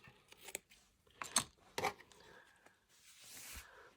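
Scissors snip through fabric bias tape in a few crisp, close cuts separated by short pauses, with light rustling of the material between them.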